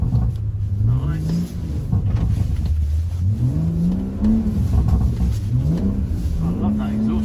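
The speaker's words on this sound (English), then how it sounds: "I love that exhaust, Reg." A BMW M140i engine climbs through the revs on a skid pan in manual mode, repeated rising pulls, each gear change dropping the pitch before it builds again, steady and fairly loud throughout.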